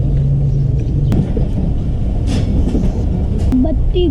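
A train departing a railway station rumbles steadily along the rails on the Darya Khan to Taxila line, a loud close rolling clatter with occasional squeals and faint voices in the background.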